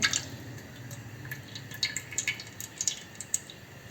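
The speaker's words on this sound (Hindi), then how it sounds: "अब जी ये ऑयल हम डाल रहे हैं।" Cooking oil goes into a kadhai on a lit flame, making faint scattered drips and small liquid ticks at close range, with no voices.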